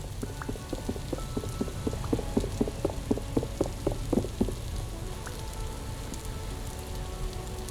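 Rain falls in the video game Vintage Story as darkness sets in, a steady patter on surfaces with a cluster of sharper, rhythmic drip-like taps in the first half, fading to an even wash, no talking.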